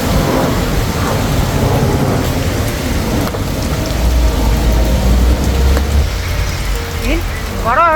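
Heavy rain pours continuously on a street in Istanbul with a loud, dense hiss, and a low rumble of thunder swells midway through, close and steady throughout.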